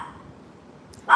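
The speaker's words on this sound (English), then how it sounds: "Stop that barking, Daisy Dukes." A single sharp bark from Daisy the dog, close and loud, bursts out at the very end after a quiet stretch of low room noise.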